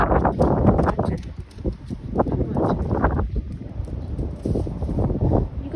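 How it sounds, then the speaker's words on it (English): Gusty outdoor wind buffets the microphone in a loud, low, continuous rumble that swells and eases throughout. "Bit windy."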